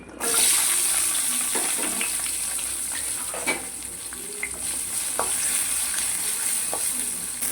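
Mustard seeds, fenugreek and shallots fry in hot oil with a continuous close sizzle, broken by occasional soft pops and stirring scrapes.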